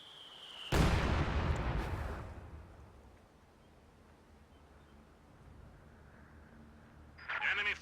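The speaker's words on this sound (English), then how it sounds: "Church has been destroyed by heavy mortar fire." Heavy mortar fire destroying a church in a war strategy game, one loud explosion that rumbles and fades over a couple of seconds, then quiet battle ambience and a smaller burst at the end.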